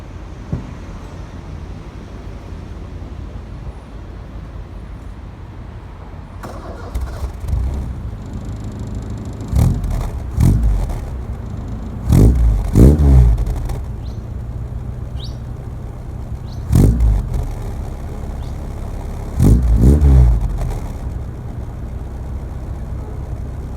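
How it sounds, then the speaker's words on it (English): A Mazda Rustler pickup truck engine idles steadily, with several loud revving bursts rising and falling at intervals, close by outdoors. "I'm gonna go ahead and start it up for you guys"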